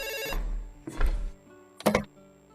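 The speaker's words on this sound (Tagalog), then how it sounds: "Oh, nagri-ring na ang telepono nyo." A bell-type telephone rings in three separate bursts, close and fairly loud, each ring a bright metallic trill followed by a short pause.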